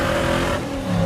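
A truck engine revving and breaking up, with a suspected carburetor fault: a loud, close, rough engine roar that holds steady and then dips and wavers briefly before surging again, with no voices.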